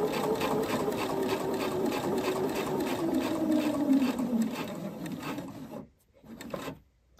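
A sewing machine stitches netting fabric in a steady, close mechanical whirr with a rapid rhythmic needle beat, then slows and stops, leaving a brief quiet gap and a short final burst.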